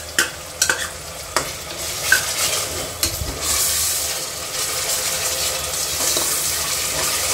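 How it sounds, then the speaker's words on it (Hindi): Ginger garlic paste fries in hot oil for a Bangalore-style mutton biryani, with a steady close sizzle under repeated stirring scrapes and clinks, and no talking. "जिंजर गार्लिक पेस्ट को मैं अच्छे से भून लूंगी ऑयल में।"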